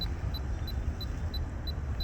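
An Autel EVO II Pro 6K drone beeps while landing at night, giving short regular electronic beeps about every third of a second, steady and moderately loud over a low rumbling background.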